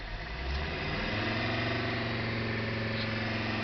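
A Mercedes-Benz turbo diesel engine, run on propane, holds a steady drone at about two thousand RPM, even and continuous with no speech.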